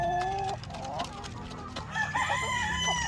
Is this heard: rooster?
yes